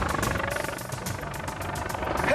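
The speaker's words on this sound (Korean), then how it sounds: "헬기 들어옵니다!" Mountain rescue helicopter approaching over Korean mountain terrain: a loud, close rhythmic chop of rotor blades, evenly pulsing throughout with a rumbling engine underneath and no voices.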